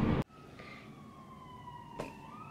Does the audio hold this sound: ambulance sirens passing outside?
yes